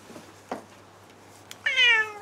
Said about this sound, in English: That's the meows.